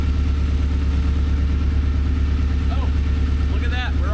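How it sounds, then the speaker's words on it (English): A Mazda NC Miata engine running loud and close during coolant filling and burping, a steady throbbing mechanical drone with a faint squeal near the end. "we're just going to sit here and rev the crap out of it"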